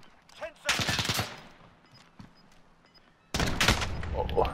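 Modern Warfare video game gunfire: a loud, fast burst of automatic fire, a quieter gap with faint clicks and a short voice, then another sustained loud burst of rapid shots.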